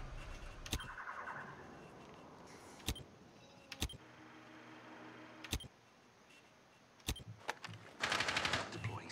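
Rifle shots in Rainbow Six Siege crack out singly at irregular intervals, about six sharp reports over a low game ambience, ending in a burst of noisier activity.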